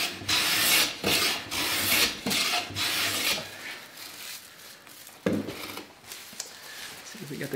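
A freshly sharpened hand plane shaves extremely fine, see-through wood curls, producing a series of breathy rasping strokes, several in quick succession, then a pause before another stroke near the end.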